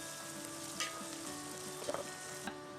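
Chopped coriander and green chili frying in a pan, a steady soft sizzle with a few faint stirring clicks and no talk.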